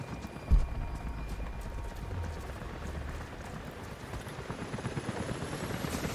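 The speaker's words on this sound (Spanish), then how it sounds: "Jacob, los helicópteros se dirigen a tu posición." Helicopters approach in Rise of the Tomb Raider with a dense, continuous chopping of rotor blades and a low engine drone, steady and fairly loud throughout, opening with a brief thump.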